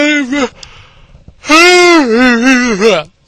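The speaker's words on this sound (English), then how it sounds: "See, I am yawning." A person yawns twice, a short stretched breathy yawn followed by a longer, louder, wavering one with a voiced, pitch-sliding moan, close to the listener and with no other sound around it.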